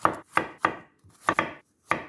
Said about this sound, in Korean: 마늘 4알은 먼저 반으로 썰어주고요.